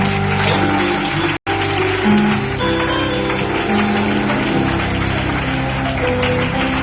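A church congregation applauds in loud, continuous, rain-like clapping that fills the whole stretch, broken by one brief dropout, with no talk over it.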